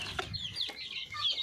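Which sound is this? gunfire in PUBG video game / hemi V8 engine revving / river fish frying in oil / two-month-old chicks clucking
two-month-old chicks clucking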